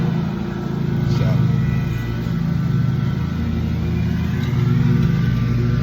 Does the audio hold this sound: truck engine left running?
yes